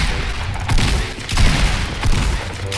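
Heavy automatic gunfire rattles in a Fortnite battle royale fight, loud and dense, with bursts swelling every half second or so over continuous game noise.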